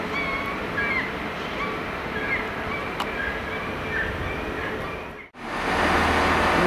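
Steady rumble of a Manchester Piccadilly-bound train departing Cardiff Central station at close range, then a sudden dropout and a louder, lower roar as it moves on.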